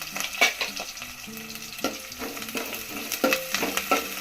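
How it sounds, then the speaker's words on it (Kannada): Onion and curry leaves frying in oil with dried red chillies: a soft sizzle broken by scattered stirring clinks and scrapes, fairly quiet and close, with no voices. "ಒಣಮೆಣಸಿಕಾಯಿ ಸ್ವಲ್ಪ ಫ್ರೈ ಆಗ್ತಿದ್ದಂಗೆ ನಾವು ಈರುಳ್ಳಿ ಸೇರಿಸ್ತಾ ಇದ್ದೀವಿ ಹಂಗೇನೆ ಕರಿಬೇವು ಕೂಡ ಸೇರಿಸ್ತಾ ಇದ್ದೀವಿ"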